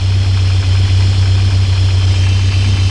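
A 1984 Toyota 4Runner engine runs on an auxiliary fuel cell, idling loud and close with a steady low rumble and a regular pulsing beat throughout.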